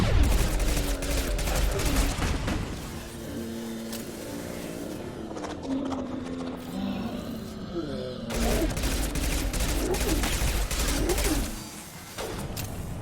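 A concussive shot fires in the video game Spaceman, a series of loud, dense blasts with crackling bursts and brief quieter gaps, repeating through the stretch.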